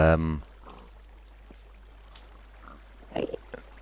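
Minecraft pigs being carried along water streams give a few short oinks and grunts around a steady trickle of flowing water, following a brief burst of a man's speech at the start.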